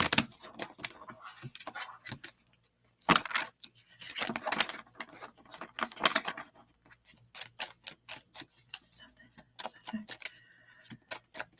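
Tarot cards being shuffled by hand, a run of quiet, crisp riffling flicks and taps in irregular bursts with short pauses between them.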